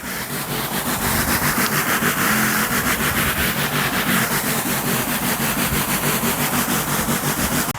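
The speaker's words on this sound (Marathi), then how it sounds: "एक पंप मोटरवर त्याचं प्रेशर बघून घ्या" A double-motor charging sprayer pump runs steadily at close range with a loud, continuous motor whine and a fast, even pulsing throughout, and no voices.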